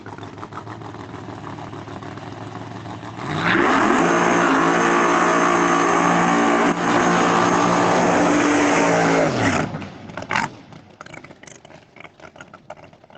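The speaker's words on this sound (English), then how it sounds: "Randy Weatherford, the WS Construction Pro Line powered machine coming up right here next lane." A ProCharger-supercharged drag racing car launches hard down the lane at a test session at Bradenton Motorsports Park, a loud, steady engine roar that rises in pitch for several seconds and then cuts off abruptly, leaving faint track noise.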